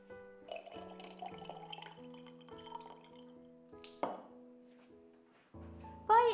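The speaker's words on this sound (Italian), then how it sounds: "a questo punto possiamo aggiungere il tè" Tea poured into a glass for chocolate bubble tea with tapioca pearls: clear dripping and pinging liquid sounds with tonal rings, a brief splash near the middle and a louder pour at the end, no talk.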